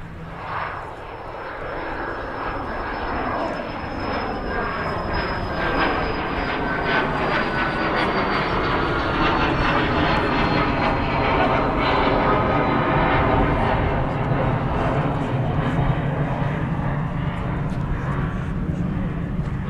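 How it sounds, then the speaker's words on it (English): An Etihad airliner taxis out at Manchester Airport, its jet engines giving a loud sustained roar with a high whine that slowly shifts in pitch, while people talk over it. "Etihad is now on the taxi out."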